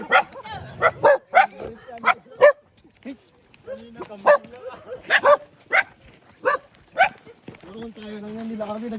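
Dogs bark on a mountain trail up Mt. Kabugbugan: a series of sharp, close barks and yips repeat at an uneven pace, with a few whimpers and voices talking between them.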